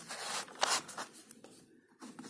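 A teacher's marker squeaks and scratches across a board while writing equations, with short rasping strokes and brief pauses.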